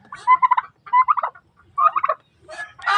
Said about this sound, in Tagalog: So may among pabo mga katatay.